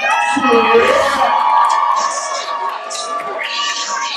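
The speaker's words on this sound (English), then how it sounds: "Make some noise for OPCM." Loud battle rap crowd at a King of the Dot event in London, whooping, yelling and cheering continuously, with raised voices and shouts layered over a dense wash of noise.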